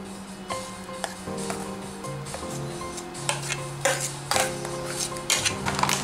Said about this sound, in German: Ich gebe das jetzt hier in so eine Schale.